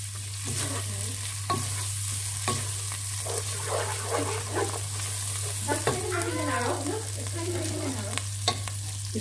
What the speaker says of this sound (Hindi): इसको थोड़ा सा मैं भून लूँ ताकि लहसुन का जायका इसमें आ जाए